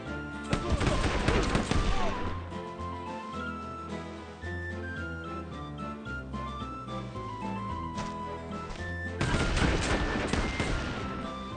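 Gunfire in the video game Sid Meier's Pirates!, bursts of shots and cannon-like blasts clustering at the start and again near the end, with a sustained tonal game score running underneath between volleys.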